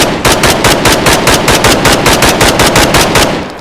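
Rapid automatic gunfire from a weapon in the PMC mod of a video game, a loud, steady stream of closely spaced shots running for several seconds with no pauses.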